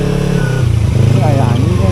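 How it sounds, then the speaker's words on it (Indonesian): A motorcycle engine revved hard beside a mountain road between Soreang and Ciwidey, a loud, close, throbbing roar that rises in pitch partway through, with voices talking over it. "seperti biasa ya bocil SMP nyuruh digeber-geber begitu"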